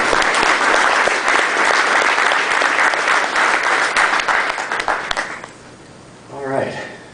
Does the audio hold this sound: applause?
yes